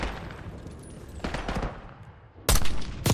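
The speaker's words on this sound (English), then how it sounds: "Got mortar fire! Clear them out!" Mortar and rifle fire in the Call of Duty: Black Ops 6 campaign: a dense, rumbling barrage of overlapping shots with two loud, sharp blasts near the end, no voices heard.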